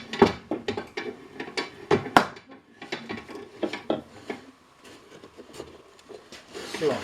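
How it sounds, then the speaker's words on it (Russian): A screw on a homemade clamping tool is tightened around an oak barrel frame, giving rhythmic creaks, wooden knocks and metallic ratcheting clicks in quick bursts, close up, with someone speaking in the background. "Потом мы надеваем наше приспособление на наш остов и начинаем подтягивать наш винт."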